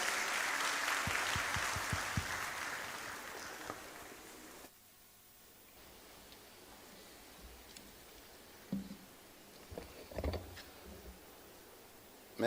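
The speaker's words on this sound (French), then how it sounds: "On l'applaudit encore bien fort" Applause from a crowd at an opening ceremony fills the first few seconds, then fades out, leaving a quiet room with a few scattered knocks and shuffles.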